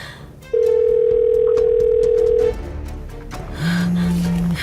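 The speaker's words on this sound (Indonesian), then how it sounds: "Gue angkat telepon mama gak ya?" A telephone tone in a dramatized family call: one long, steady, loud tone, then after a short gap a lower steady tone begins. No one speaks over it.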